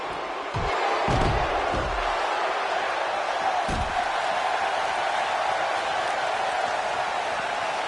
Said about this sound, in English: by the sounds of it, this crowd is ready for anything that happens tonight